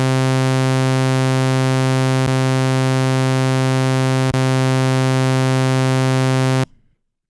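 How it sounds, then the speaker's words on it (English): A Doepfer VCO holds a steady, buzzy sawtooth synth tone, loud and sustained for several seconds before cutting off abruptly, with no talking. "Let's hear the ramp or the sawtooth wave."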